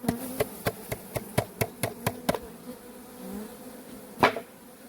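Honeybees shaken off a frame in a forest apiary, heard as a rapid string of sharp knocks as the frame is jarred, with a loose buzzing swell afterward and a single louder rasp near the end.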